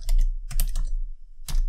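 Typing on a computer keyboard while writing Python code, with quick bursts of close key clicks separated by short pauses.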